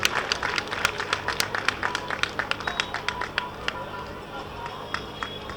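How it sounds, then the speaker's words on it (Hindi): An audience at a Beti Bachao Beti Padhao fair event in Sriramnagariya, Farrukhabad claps in a loose outdoor crowd, with distinct individual claps sounding close and irregular against a low background hum. "एक बार जोरदार तालियां होनी चाहिए।"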